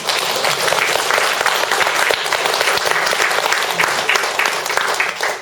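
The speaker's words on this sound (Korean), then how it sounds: "박수 한번 크게 쳐주세요." Loud, sustained applause from an audience at a Won Buddhist temple service, dense clapping that carries on evenly throughout.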